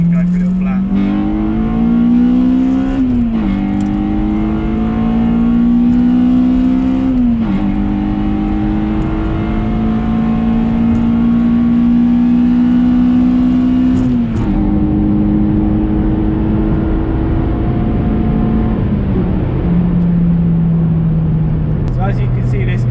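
A Honda Civic Type R EP3 with a VTEC engine pulls hard from inside the cabin, loud engine note climbing steadily through the revs with several sharp gear changes breaking the rise, under a voice talking.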